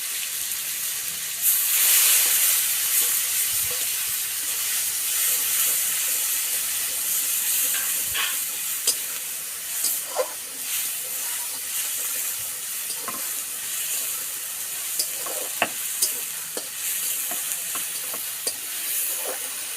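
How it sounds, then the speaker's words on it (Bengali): Onion, ginger and garlic paste frying in a pan gives a steady, close hiss and sizzle, broken by scattered clicks and scrapes of stirring, with no talking. "আদা রসুনের পেস্টটা আমার ভাজা হয়ে গেছে।"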